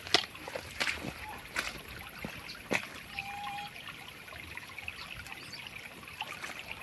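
Water overflowing and trickling steadily down into a creek, a soft continuous dribble with faint splashes, heard quietly outdoors with no talk.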